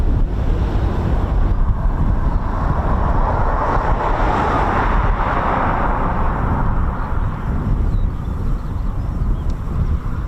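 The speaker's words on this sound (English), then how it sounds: "it's very windy, isn't it?" Strong wind at an RAF airfield, a steady loud roaring rush buffeting the microphone without a break, swelling slightly in the middle.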